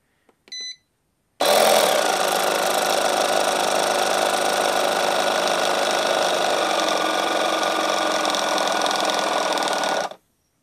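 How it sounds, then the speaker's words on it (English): A jump starter's built-in air compressor, set to 10 PSI, follows a couple of short electronic beeps and runs as a loud, steady motor buzz for about nine seconds before cutting off abruptly. "So the compressor, set it to 10 PSI or something."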